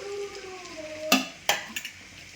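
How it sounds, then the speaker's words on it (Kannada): Onions drop into hot oil in a pan, giving a couple of sharp sizzling bursts and a short stir after a brief tonal hum, close and fairly loud. "ಒಂದು ಪಾತ್ರೆಗೆ ನಾನು ಎಣ್ಣೆ ಹಾಕಿದ್ದೇನೆ. ಎಣ್ಣೆ ಬಿಸಿಯಾಗಿ ಬರುವಾಗ ಸೊ ನಾನು ಅದಕ್ಕೆ ಹಾಕ್ತಾ ಇದ್ದೇನೆ ನೀರುಳ್ಳಿ"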